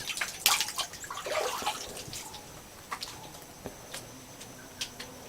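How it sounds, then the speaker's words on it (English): Spring water streams out and spills down into a small waterfall and bathing pool in front of a temple, a soft steady trickle with scattered drips and splashes, fairly faint, with no voices. "there's water streaming out of there, and then it flows down into the waterfall."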